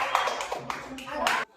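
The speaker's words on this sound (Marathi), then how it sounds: "टाळ्या." Children in a classroom clap together in a short burst of scattered, uneven claps that swell near the end and then stop abruptly, with young voices mixed in.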